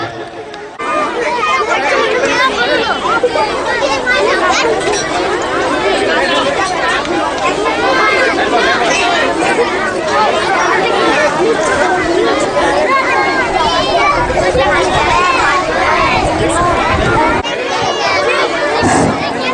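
Children crowding together at a school annual programme, a loud, continuous babble of many young voices chattering at once, steady and close throughout.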